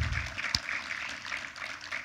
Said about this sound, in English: let's give another round of applause to our fire chief, our police chief, and our police captains